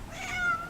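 A pet cat gives a single soft, drawn-out meow close by, faint against a quiet indoor room.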